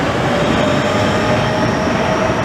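Class 465 unit 465179 departing Grove Park on the 12:01 service to London Charing Cross, a steady close rumble of wheels and motors with a thin sustained whine running through it, no voices.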